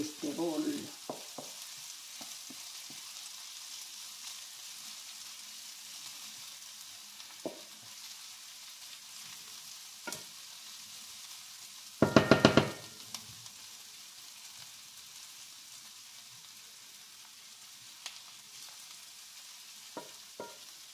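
Onions sizzling in olive oil in a Tefal frying pan, a steady soft crackle with scattered clicks of stirring and one brief louder clatter partway through.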